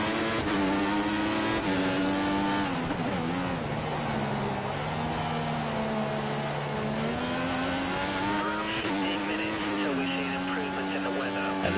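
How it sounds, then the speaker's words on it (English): A Formula 1 car in the F1 2014 PC racing game at the Brazil circuit: a loud, high engine whine rises and falls through gear changes, with tire noise as the back end slides, under steady commentator talk. "We almost lose the car here, coming through the right hand or going into the grass there, the back end fishtailing all over the place, but Massa unable to take advantage."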